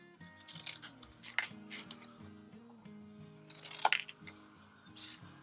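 Scissors snip through patterned paper cards in a series of short crisp cuts, with a few sharper clicks and rustles between the snips, fairly close and loud over a steady low hum of background noise.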